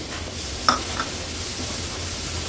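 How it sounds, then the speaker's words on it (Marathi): Chopped tomato goes into spices frying in oil, bringing a steady close sizzle and a couple of sharp clinks from the stirring spoon against the pan. "परतून झाले की हा टोमॅटो एक चिरून घेतलाय तो ऍड करते"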